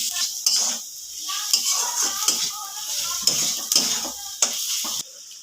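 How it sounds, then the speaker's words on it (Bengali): Spices frying in a pan with onion, ginger and garlic for an egg chowmein, a steady sizzle broken by repeated clinks and scrapes of a spoon stirring against the metal pan. "পেঁয়াজের সঙ্গে আদা রসুনের সঙ্গে ভালো করে মশলাটা কষে নেব।"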